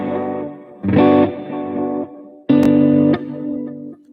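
Electric guitar played through an HX Stomp with chorus, echo and reverb, a few sustained, shimmering chords rung out one after another, each swelling and trailing off into a wet, lingering tail, with no talking.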